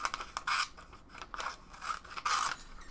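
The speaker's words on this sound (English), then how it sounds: "let me cut off this white part" Scissors snip through paper for a collage art journal page, several quick close cutting strokes with short gaps between them, alone without talk.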